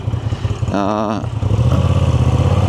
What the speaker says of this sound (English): the sound compared to my custom exhaust